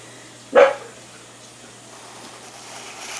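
A dog gives a single loud, sharp bark close by in a quiet indoor room, and only faint background hiss follows.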